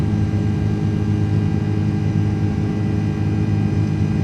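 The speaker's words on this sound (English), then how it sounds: "So the engines don't sound bad right now." Airbus A330 jet engines in Microsoft Flight Simulator 2024 during a climb to 3,000 feet, a loud, steady low droning roar without any voices.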